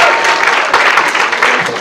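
Applause from a school audience at Fremd Writers Week 2024, a steady wash of clapping holding at an even level throughout, fairly close and unbroken by talk.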